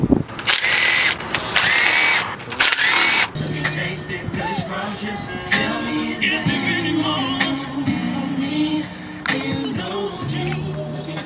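Makita power tool used during a Lexus GS300 100k service: sharp, loud bursts of a cordless tool buzzing on and off, then mechanical clatter and whirring with people talking nearby.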